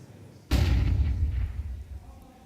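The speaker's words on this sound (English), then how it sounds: "and Cemetery just sends the bullet over their shoulders." A single sharp gunshot in the Counter-Strike video game booms out and then rumbles away over about two seconds, loud and close against a quiet background.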